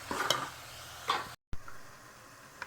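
Vegetables sizzle in a hot pan for Chinese chicken fried rice as a spoon stirs through them, with scraping strokes near the start and around one second, a short gap of silence, then a steady low frying hiss.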